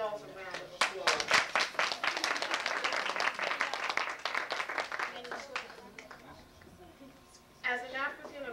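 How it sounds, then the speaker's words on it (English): An audience bursts into a round of applause, dense close clapping that swells, holds for several seconds and then fades as a voice resumes speaking. "I think we should give ourselves a round of applause."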